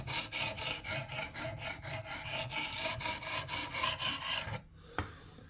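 A PL-XE blade being sharpened with a few small passes, giving a steady rhythmic rasping scrape close up for about four and a half seconds before stopping, followed by a single light tap.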